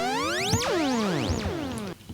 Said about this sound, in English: Get like a modular synth of some sort and make some wacky sounds